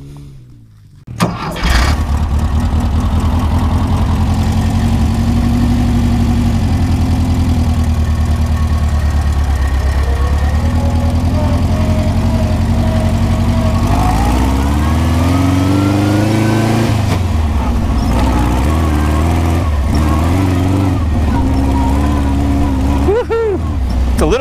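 An old-school VW dune buggy engine starts, then runs loud and close, idling and revving as the vehicle drives off, with a long steady roar that shifts in pitch.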